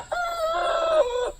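A rooster crows once, a single drawn-out cock-a-doodle-doo lasting about a second, close and clear with little background.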